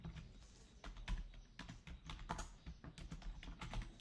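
Typing on a computer keyboard while writing Go code for a data types lesson: continuous uneven clatter of keystrokes with a few louder bursts, close and steady throughout, no talk.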